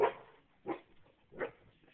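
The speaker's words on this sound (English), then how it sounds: "What are you barking at?" A dog barks three times at steady intervals, fairly close and moderately loud, with quiet pauses between barks and no talking.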